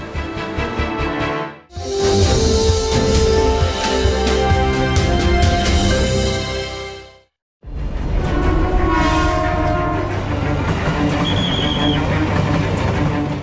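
A loud train rumbles past close by at a railway crossing in Jakarta with sustained horn blasts, cutting out briefly before the roaring passage and horn resume.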